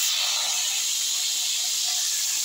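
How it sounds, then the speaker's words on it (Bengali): Eggplant hits hot oil seasoned with cumin, bay leaf and dried chilli, making a loud, continuous, close hiss and sizzle that holds steady for a couple of seconds. "বেগুনটা আমি এখন তেলে ছেড়ে দিই"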